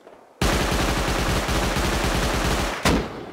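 Rapid automatic gunfire in the survival game Rust, a sustained loud burst of closely spaced shots lasting a few seconds, ending with one final sharp report, no talk over it.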